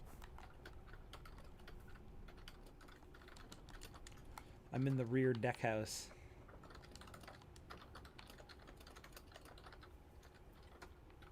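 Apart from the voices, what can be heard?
typing on a computer keyboard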